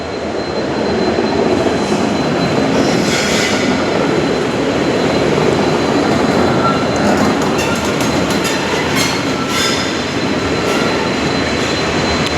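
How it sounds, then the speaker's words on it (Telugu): Long-distance trains rumble through Chennai railway station, a loud, continuous roar of wheels and carriages close by, with faint metallic clatter over the steady din and no talk. "అంత అన్ని లాంగ్ లాంగ్ జర్నీలు చేసే ట్రైన్స్ అనమాట ఇవన్నీ"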